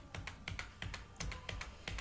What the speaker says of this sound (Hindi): आप सिंपली जो है वो अपने कीबोर्ड से टैब का की प्रेस करेंगे